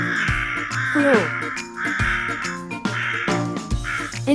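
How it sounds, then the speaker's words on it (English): A crow caws in a series of harsh, repeated calls, loud and close, spaced across a few seconds with no talking. "Crow."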